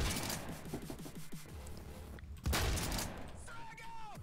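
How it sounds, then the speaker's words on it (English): Shotgun blasts from a KS-23M in the Phantom Forces shooter game ring out in a few sharp bursts, mixed with game effects and a person talking over the action. "Oh my God, I love this shotgun."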